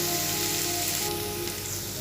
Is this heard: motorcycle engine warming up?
no